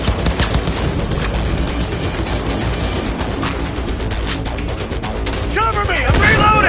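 Rapid gunfire crackles through a firefight in the video game Cyberpunk, dense overlapping shots sustained throughout and swelling louder near the end, with voices shouting over the shooting.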